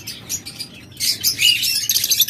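A breeding pair of caged pet birds among lovebirds, budgerigars and cockatiels gives a busy run of close, high chirps and tweets. The calls come in clustered bursts and grow denser toward the end, with no voices.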